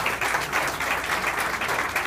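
An audience at a road improvement meeting claps steadily in dense, continuous applause that fills the room from start to finish.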